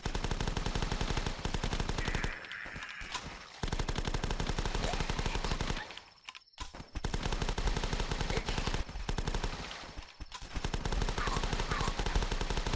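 Rapid, loud gunfire from the zombie survival game The Last Stand, with sustained automatic bursts broken by a few brief pauses and dropouts.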